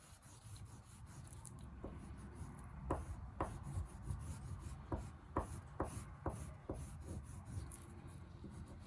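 Blue pastel rubbed firmly across paper, a faint, steady scratchy rasp broken by short, sharper strokes, with no talking.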